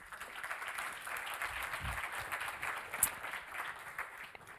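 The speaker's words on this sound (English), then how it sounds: "A big hand of applause." Audience applause for a speaker invited onstage at a science park update event. The clapping is soft, distant and continuous, a steady patter of many hands heard from afar.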